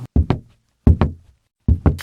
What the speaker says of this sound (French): ça peut être le son des pas